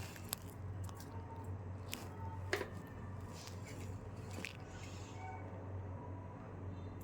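Shrimp are mixed by hand with turmeric, chili powder, salt and oil, making faint wet squishing and squelching with a few soft clicks over a low steady hum, close and with no talk.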